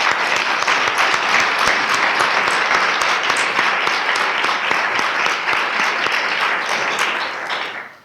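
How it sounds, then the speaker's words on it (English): A large audience at a humanities and social sciences research celebration applauds award winners, steady dense clapping sustained for about seven seconds before fading out. "please let's applaud our award winners"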